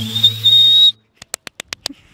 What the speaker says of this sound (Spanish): Vamos a gritarle a Pancho y luego tú le chiflas.